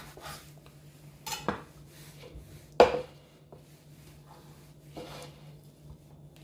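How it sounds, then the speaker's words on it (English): Knife slicing kiwi fruit on a board, a few sparse close clicks and cuts with one sharper knock, quiet gaps between, low steady hum underneath. "So what I'm gonna do, gonna cut the kiwi now."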